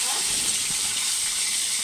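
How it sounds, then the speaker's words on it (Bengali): Fish fries in hot oil in a wok, giving a steady, dense sizzle that holds evenly throughout without breaks. "মাছটা ভাজা হচ্ছে।"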